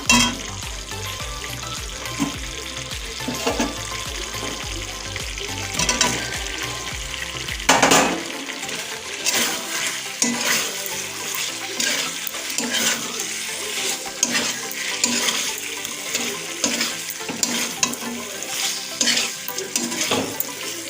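Cauliflower tossed into a fried spice paste and stirred, a continuous loud sizzle with repeated scraping strokes of a spatula against the pan, a low hum fading after the first few seconds, and no talking.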